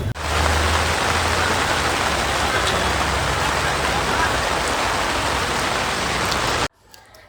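Heavy rain pours steadily on a street in Pune, a loud, dense hiss of drops hitting surfaces that runs unbroken for several seconds and then cuts off abruptly near the end.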